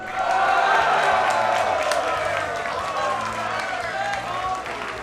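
A crowd at a Super Smash Bros. for Wii U tournament cheers, whoops and applauds loudly and continuously for a player, a dense roar that swells and holds throughout.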